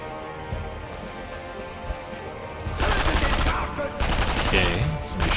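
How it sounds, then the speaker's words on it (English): Gunfire aimed at the player in the World War II shooter game Sniper Elite V2, a burst of loud rapid shots breaking out over low game ambience partway through. "somebody's shooting at me"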